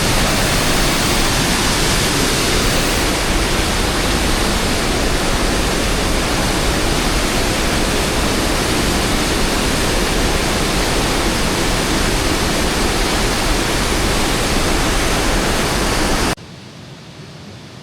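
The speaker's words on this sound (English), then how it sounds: "There's four waterfalls right down the road." Steady, dense roar of several waterfalls at Little Egypt, Tennessee, a broad hiss filling the whole clip loud and close before cutting off abruptly near the end.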